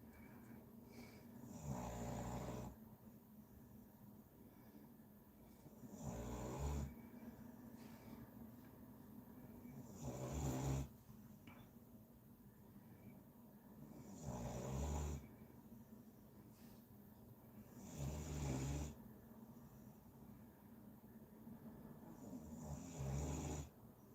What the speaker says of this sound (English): we've got the snoring dog as ever.